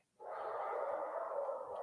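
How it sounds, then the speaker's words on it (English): A dog, apparently sedated with melatonin, vocalizes continuously in a sustained whining, howling tone, fairly faint and steady, with no talk. "The dog is having a moment."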